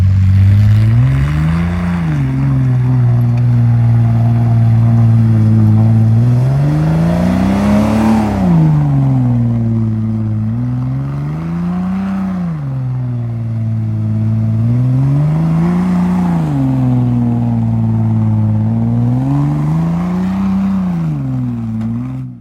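A Jeep Grand Cherokee WJ without sway bars, fitted with Radar tires, drives snowy off-road trails. Its engine drones loudly and close, rising and falling in repeated waves as the throttle is worked.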